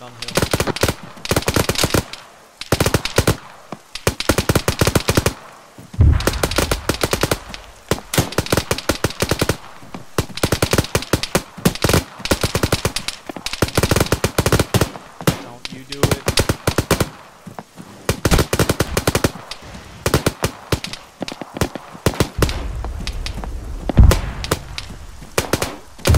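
Heavy machine gun fire from a BTR armored vehicle in a military video game erupts in long, loud rapid bursts separated by short pauses, with players talking over the shooting.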